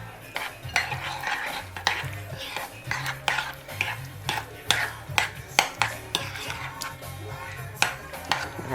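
A utensil stirs an apricot truffle mixture with chopped macadamia nuts in a bowl, giving repeated close scraping and clinking strokes in an uneven rhythm, with no talking.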